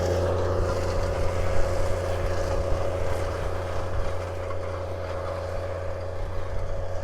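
Tractor working a field with an Amazone Catros harrow, a steady loud diesel engine drone with low constant hum and broadband rumble throughout, no talk.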